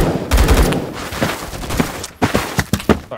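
Gunfire in a Roblox shooter, dense bursts of shots early, then a run of sharp, separate cracks in quick succession toward the end, loud and close.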